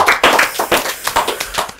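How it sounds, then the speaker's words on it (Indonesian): A small studio group on a talk show claps briefly for a guest, a short burst of close, uneven hand claps that quickly thins out, with no speech over it. "Tepuk tangan dulu buat Kak Mobilung."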